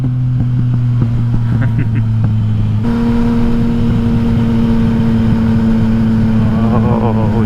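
A Yamaha XSR900 motorcycle with an Akrapovic exhaust rumbles steadily while riding, its loud engine note shifting pitch partway through and rising briefly near the end, with no one talking.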